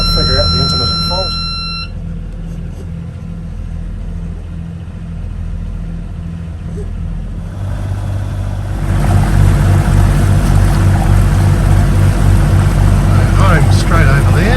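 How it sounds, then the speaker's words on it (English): A sailing catamaran's two boat engines drone steadily at 1800 RPM at close range, growing louder and rougher about halfway through, with a few brief electronic beeps at the start. "1800 RPM, both engines, so a good charge going into the bank."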